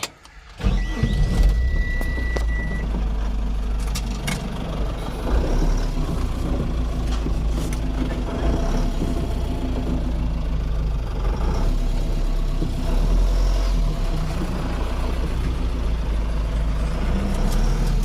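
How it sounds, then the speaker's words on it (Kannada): A truck on a drive from Bengaluru toward Mulbagal starts up and pulls away, its engine running steadily and close throughout, with intermittent mechanical clatter and a brief tonal beep near the start. "ಬನ್ನಿ ಸ್ಟಾರ್ಟ್ ಮಾಡೋಣ ಗಾಡಿ."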